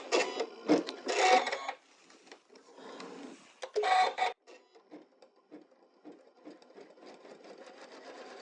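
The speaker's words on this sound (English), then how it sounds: "we're ready to start the placement stitch for the second applique" An embroidery machine runs an appliqué placement stitch, loud rapid mechanical needle chatter in bursts that drop to lighter, quieter stitching and pauses, close by with no one talking.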